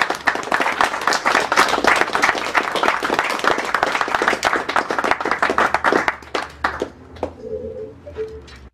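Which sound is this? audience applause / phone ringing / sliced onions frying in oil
audience applause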